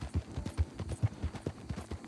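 A horse's hooves clip-clop in a quick, even rhythm in Red Dead Online, each footfall a close, distinct thud over about two seconds, with no talk.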